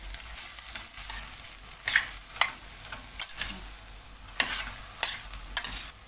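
Spinach roots sautéing in a pot for a spinach-root soup, a low continuous sizzle broken by occasional spoon scrapes and clinks, close and fairly quiet, no voices.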